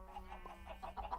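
Chickens in the Minecraft video game giving soft, brief clucks in quick succession, faint and close under a low background hum.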